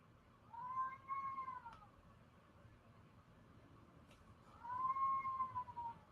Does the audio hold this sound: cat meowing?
yes